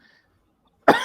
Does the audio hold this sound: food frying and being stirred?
no